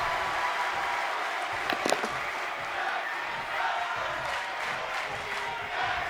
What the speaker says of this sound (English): listen to this NWA crowd, this Mid-Atlantic crowd chanting tag team wrestling